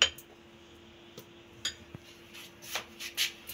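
Lentil pizza batter being mixed with cornflour in a bowl, with scattered spoon clinks and scrapes against the bowl, faint and intermittent with no talk.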